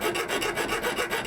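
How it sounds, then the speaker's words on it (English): A hand file rasping across a metal oil dipstick from a Mazda 2.3L engine, quick rhythmic back-and-forth strokes, close and fairly loud, with no talking. "So we'll try with the file first."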